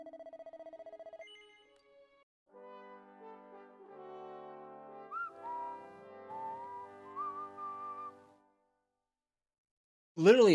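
A person whistles a melody along with Dragon Quest VII Reimagined game music, a clear wavering tune held for several seconds after a short electronic tone, ending in a loud burst.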